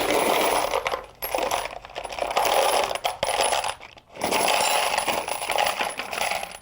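Lubed brass 6.5 Creedmoor cartridge cases are poured into a box in a few bursts of dense metallic clinking and rattling, close up, with short pauses between pours.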